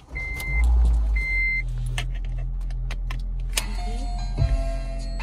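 A car is switched on: electronic dashboard chimes ring twice over a low, steady engine hum heard from inside the cabin, with a few small clicks and no talking.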